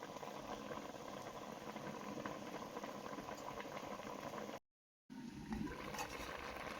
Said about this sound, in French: je vais refermer la casserole et laisser cuire le tout à feu pas moyen